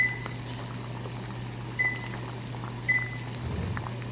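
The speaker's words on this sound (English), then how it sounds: "so let me set the timer" A kitchen timer is set while beans boil on a home stove, giving three short, clear electronic beeps spaced a second or so apart over a steady low appliance hum.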